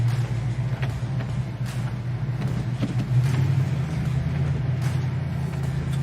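A 1970 Oldsmobile 442 with a stock cam idles steadily, its low engine rumble constant and close, with a slight rise in tone partway through and no talk.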